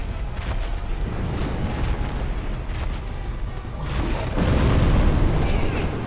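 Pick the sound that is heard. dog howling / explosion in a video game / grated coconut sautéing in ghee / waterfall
explosion in a video game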